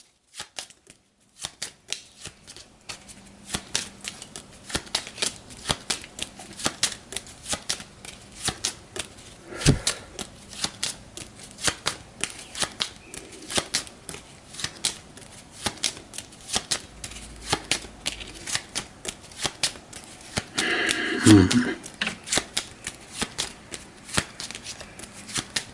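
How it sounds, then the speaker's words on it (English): A deck of cards is shuffled face down during a Terra Mystica board game, a long run of quick riffling and snapping bursts that rise and fall, close and fairly quiet, with a louder flurry near the end. "once I turn that face down and give it a shuffle"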